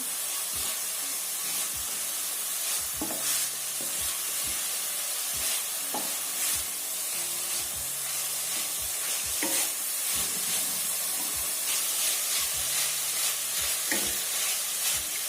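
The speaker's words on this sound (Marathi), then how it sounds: "सतत परतवत राहायचंय आहे" Modak filling being stirred and sautéed in a pan, with soft continuous sizzling punctuated by regular sharp scrapes and taps of the spoon against the pan, no talking.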